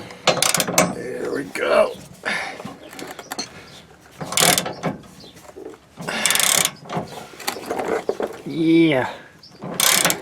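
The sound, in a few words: ratchet tightening bolts while installing Curt XD hitch on Toyota Tundra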